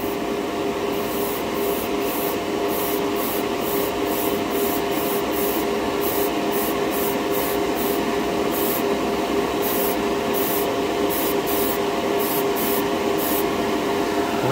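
A Harder & Steenbeck Evolution 2 in 1 airbrush sprays in a continuous, close, steady hiss of air, with faint periodic clicks or pulses running over the constant airflow, and no voices.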